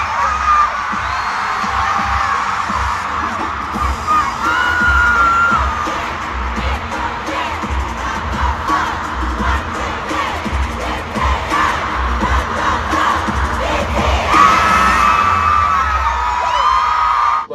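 A huge concert crowd in Las Vegas roars continuously, with dense cheering, whoops and chanting filling the arena at a steady, loud level throughout.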